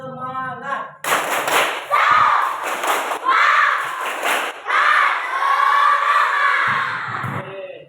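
A class of primary schoolchildren clapping in rhythmic bursts while chanting and shouting together, loud and close, with an adult voice speaking at the start.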